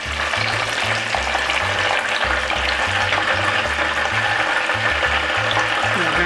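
Egg rolls deep-frying in hot oil give a loud, constant sizzle and crackle, close up, with no voices over it.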